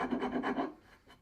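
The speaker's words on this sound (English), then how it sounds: "What I'll do is I'll show you using a rasp." A rasp files the wooden handle of a vintage hatchet in several quick, rhythmic rubbing strokes that are close and fairly loud, then trail off into quieter scraping.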